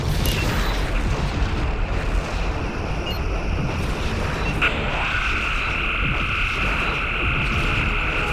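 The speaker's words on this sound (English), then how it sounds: "Klingon vessel destroyed." A Klingon vessel blows apart in the space game Star Trek Legacy, a loud continuous roaring rumble that runs throughout, joined midway by a steady electronic tone.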